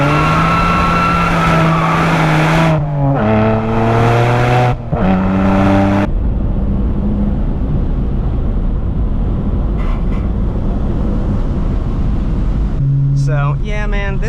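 A drifting car works through a right-hand turn, its engine droning loudly and steadily under revving and tire noise, with someone talking over parts of it.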